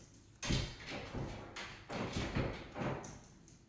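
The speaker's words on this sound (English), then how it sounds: "Literally my dog trying to come in." A dog tries to open a door to come inside, making a series of loud, uneven thumps and bumps against it, spaced about a second apart, with a faint clack or two in between.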